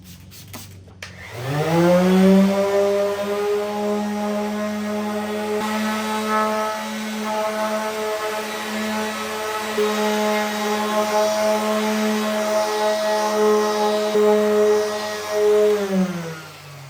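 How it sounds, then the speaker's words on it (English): A dual-action sander wet sands a decal area on a 2006-2010 Dodge Charger Daytona trunk with 3000-grit paper, giving a steady droning whir that spins up, holds close and even for about fifteen seconds, then winds down. "Okay, I got 3000 on my DA and we'll wet sand it."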